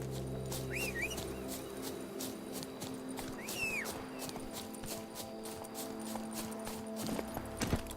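Horse hooves in The Witcher 3, a steady rhythmic clip-clop of galloping that stays close and moderately loud, with chirping birds and a whistling sound over it and no talking.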